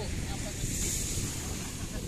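Strong wind roars steadily across the microphone, a dense rushing noise that never lets up.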